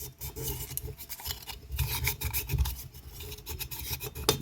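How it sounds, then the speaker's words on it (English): Fine-grit sandpaper is rubbed by hand over a small part, producing a continuous close, raspy scratching in back-and-forth strokes with a steady rhythm and no talking. "Go in here and make sure every bit's been sanded nicely."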